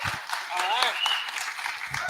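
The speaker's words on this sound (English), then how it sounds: "give them a round of applause" Audience applause at a tech conference, brisk clapping with a voice and whoops rising over it partway through.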